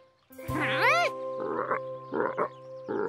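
Cartoon frogs, freshly transformed from tadpoles, let out a springy rising croak followed by three shorter buzzy croaks in a steady rhythm, clear and close over a faint tonal background.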